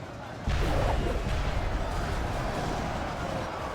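Artillery in Total War Silmarillion booming as a sudden loud blast that rolls into a sustained rumble, with a voice talking over it.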